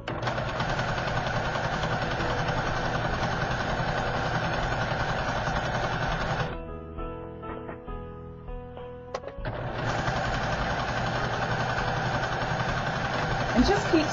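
Sewing machine stitching a lettuce edge while the fabric is stretched, running in a fast steady whir close by, stopping briefly partway for repositioning with small clicks, then resuming.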